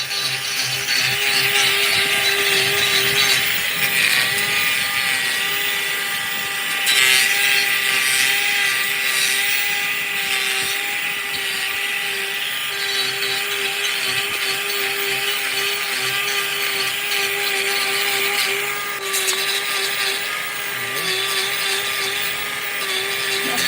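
Hoof trimming on a lame cow produces a steady grinding, whirring tool noise that runs loud and constant throughout, with brief shifts in pitch and no speech.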